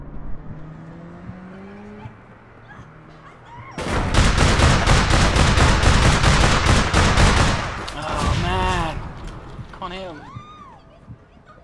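Rapid automatic gunfire from APB Reloaded rattles loudly for about four seconds as a sustained burst, after engine hum and before voices talk over the fading noise.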